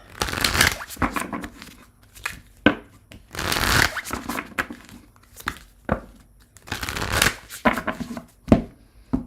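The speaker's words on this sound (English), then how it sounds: "All right, shuffling." Tarot cards being shuffled by hand, close and crisp, in repeated bursts of riffling and sliding with brief pauses between, no talk over them.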